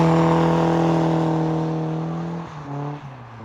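BMW E36 drift car engine held at high, steady revs while sliding through a section, loud and close with strong harmonic drone, then dipping and wavering in pitch near the end as the throttle is modulated.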